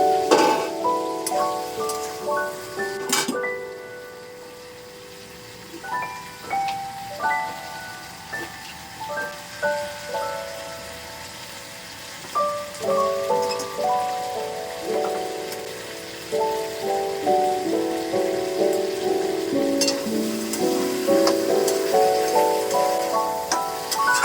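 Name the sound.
chicken sizzling while being sautéed in a pan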